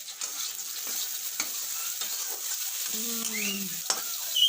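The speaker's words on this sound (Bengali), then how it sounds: "আমাদের কড়াইতে মাছ ভাজা হচ্ছে" Fish frying in a wok gives a soft, continuous sizzle broken by occasional stirring scrapes, with a short tonal squawk near the end.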